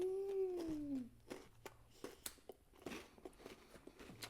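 Someone bites into and chews a McAllister's milk ginger cookie, giving quiet, close, irregular crunches, after a brief voiced hum at the start.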